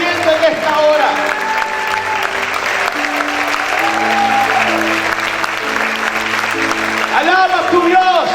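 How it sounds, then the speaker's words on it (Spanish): Congregation applauding in a church, steady sustained clapping under sung or chanted notes and a voice throughout. "Ponte de pie y aplaude fuerte al Señor."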